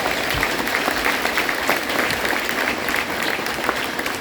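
An audience at a sixth grade school band concert claps in a steady, dense round of applause that lasts throughout, fairly loud and filling the room.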